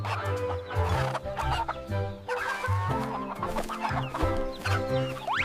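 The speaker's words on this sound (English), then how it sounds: "Let's take care of the chickens." Farm chickens cluck busily and close by, with repeated overlapping calls and a squawk near the end, no talk.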